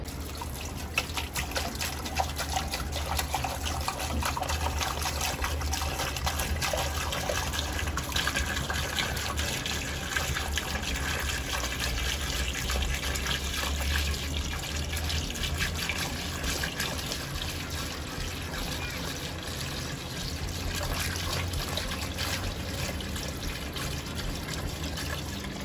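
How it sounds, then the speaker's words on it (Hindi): Water pours steadily into a tank for birds at a home, a continuous trickling, gushing fill that runs unbroken for the whole stretch at moderate level with no talk over it. "तो अब इसके अंदर पानी भरते हैं थोड़ी देर में"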